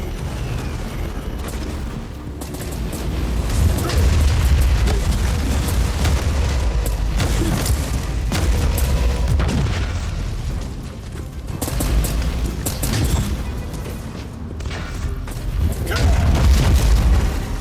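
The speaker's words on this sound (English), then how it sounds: "Oh god, the artillery." Artillery explosions in the video game Warhammer 40000: Inquisitor - Martyr, a dense run of heavy booms and bursts rumbling almost without pause, loud and close, with a voice occasionally over them.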